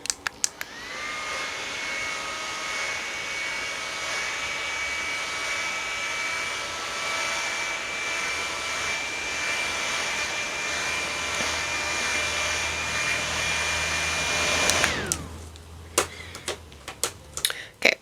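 A hair dryer blows steadily for about fifteen seconds with a loud airy whoosh and a high motor whine, then switches off, followed by a few close clicks and taps.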